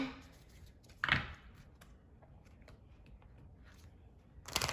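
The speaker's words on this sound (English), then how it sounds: "Let's get a shuffle." Tarot cards being shuffled during a reading, with a sharp riffle burst near the start, quieter soft card handling after it, and another burst of shuffling at the end.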